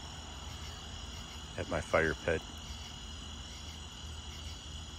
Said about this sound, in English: Crickets are out there, and locusts, and the tree frogs.